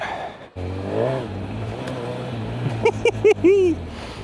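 Honda CB1000 Hornet motorcycle engine while riding, a steady low drone with a few short rising revs near the end, close and fairly loud.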